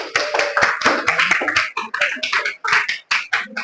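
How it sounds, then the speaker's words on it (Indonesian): Applause in an elementary school classroom after students' presentation, a loose burst of small hands clapping near and loud, irregular and uneven, with brief pauses between clusters of claps. "Tepuk tangan buat temannya."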